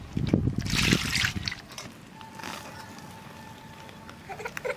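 Water splashing and trickling as palm fruits are washed by hand, a few close sloshes at first and then quieter dribbling, with a faint steady tone behind.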